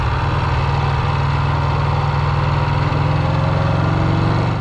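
Vincent Black Shadow 1000 motorcycle engine, a loud, close, steady idling thump with an even low-pitched pulse that holds unbroken throughout, with no voices over it.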